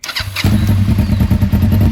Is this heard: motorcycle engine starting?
yes